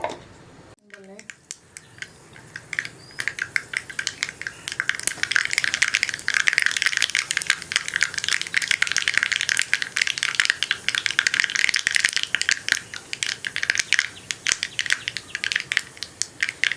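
Mustard seeds crackle and pop rapidly in hot oil, a dense, loud, continuous sizzle that builds after a quiet first second and keeps going.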